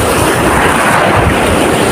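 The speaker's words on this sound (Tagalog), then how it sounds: "malakas yung alon" Loud, continuous roar of rough surf and gusting wind buffeting the microphone, with no break or voices throughout.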